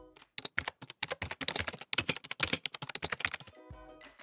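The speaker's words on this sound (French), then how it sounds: "c'est le son de quelqu'un qui tape sur un clavier d'ordinateur." Fingers typing on a computer keyboard, a quick irregular run of close, crisp key clicks with short pauses, ending on a few final taps.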